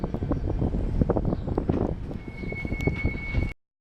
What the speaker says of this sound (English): SW locomotive pushing a tanker